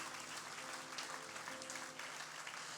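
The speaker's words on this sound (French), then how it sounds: "Vous pouvez l'applaudir" Church congregation applauding during a sermon, a continuous wash of many people clapping, fairly distant and quiet, steady in level throughout with a faint sustained tone underneath.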